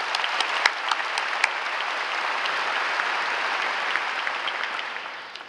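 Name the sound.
audience applause at a high school graduation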